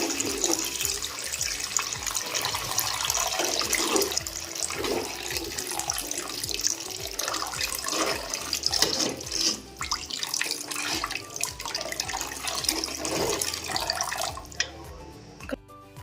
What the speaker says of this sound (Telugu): ఇప్పుడు ఇందులో వాటర్ వేసుకొని దీన్ని మంచిగా ఇంకా కుక్ చేసుకుందామండి